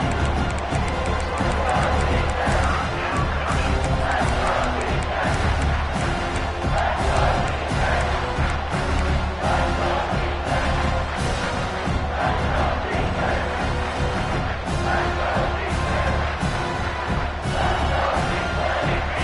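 A large college football stadium crowd roars and cheers continuously as the defense takes the field, a loud, dense wall of noise with no letup.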